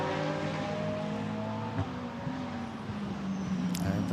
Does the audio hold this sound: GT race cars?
yes